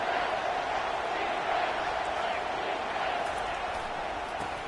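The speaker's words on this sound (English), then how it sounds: "This crowd knows when to bring it." A packed stadium crowd at a college football game between Ole Miss and Texas roars steadily for the defense, a dense continuous wall of cheering heard from within the stands.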